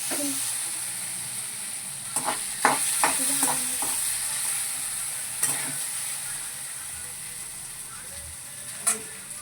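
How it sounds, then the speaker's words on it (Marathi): Diced potatoes sautéed in a pan for sabudana khichdi, a fasting dish, with a steady low sizzle and scattered spoon scrapes and stirring knocks, moderately close. "बटाटा छान परतवायचा"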